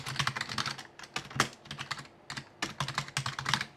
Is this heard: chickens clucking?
no